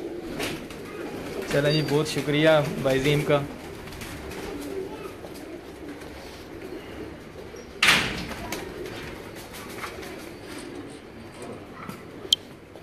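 Pigeons coo in a soft, throaty series near the start, with someone speaking over them, then a sharp bang like a door and scattered faint rustles.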